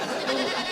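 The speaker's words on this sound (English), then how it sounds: "It's a billy goat." A billy goat gives one short, nasal bleat, close and clear, lasting under a second.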